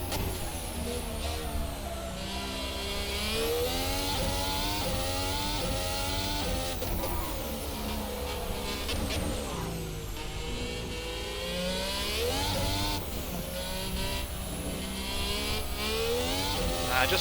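An F-Hybrid 2019 race car in Assetto Corsa accelerating around the Magione circuit, a high revving engine that climbs through repeated gear changes with sweeping pitch rises and drops, loud and continuous for the whole stretch.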